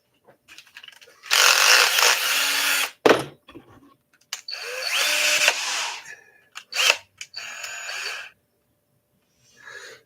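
A power drill whirs in several bursts of a few seconds each, driving a long button head screw, starting and stopping with short pauses and clicks between runs, loud and close.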